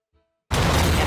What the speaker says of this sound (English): Oh cool, I have an explosion effect.